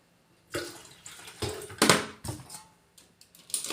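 Irregular splashing and gurgling of water poured into an electric kettle in short spurts, close by, with pauses between pours and no talking.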